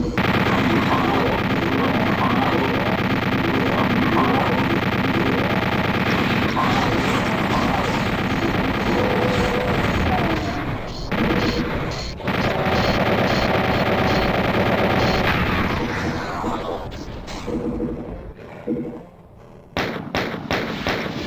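A chain gun firing in a retro video game, a dense, loud, unbroken mechanical rattle of rapid shots that runs for most of the stretch before thinning and breaking up near the end.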